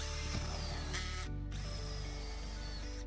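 A drill bores through a tar sound-dampening pad inside a van during an inlet install, a steady loud grinding whir with a brief pitch drop near the middle, continuous and alone.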